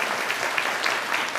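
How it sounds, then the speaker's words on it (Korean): Congregation gives a warm round of welcoming applause at a Korean church hope-sharing festival service, a dense, steady wash of many hands clapping at once, filling the whole brief moment without voices. "그분들을 위해서 우리 크게 한번 다시 환영의 박수 드리겠습니다."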